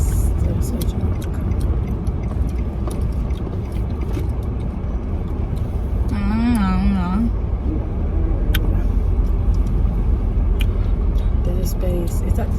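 A car rolls slowly through a parking area, its engine and road noise forming a steady, loud rumble inside the cabin, while people talk over it throughout.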